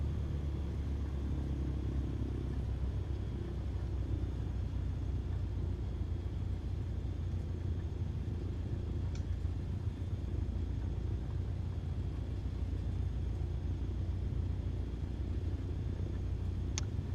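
A small airplane's engine idles at around 1000 to 1200 RPM while it taxis off the runway, a steady low rumble heard from inside the cockpit with no speech.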